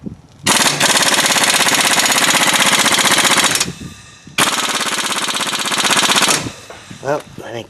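Impact gun rattling hard on the brake caliper bracket bolts of a 2003 Chevrolet Impala, in two long, loud bursts of about three and two seconds with a short pause between.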